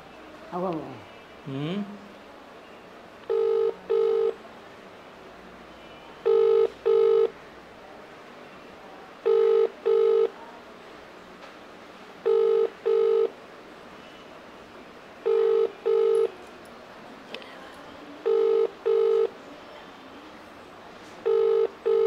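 Telephone call ringing out unanswered, with repeated double-burst electronic ring tones at regular intervals and a person talking faintly early on.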